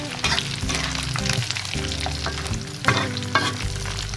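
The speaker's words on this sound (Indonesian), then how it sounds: "Ikan terinya lagi digoreng ya." Small anchovies (ikan teri) fry loudly in hot oil in a pan while making Medan-style sambal, a dense continuous sizzle with crackling bursts and occasional stirring scrapes, close and with no talking.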